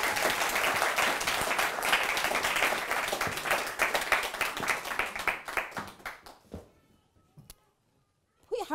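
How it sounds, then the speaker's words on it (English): An audience at a live speaking event in Birmingham applauds a speaker as she takes the stage; dense, steady clapping that thins into scattered claps and dies away to near silence. "Please give her a huge round of applause."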